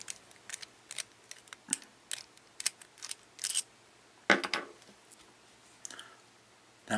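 A small screw being undone on a Kayfun V4 atomizer, a scatter of light close metallic clicks and ticks at irregular intervals, faint between them.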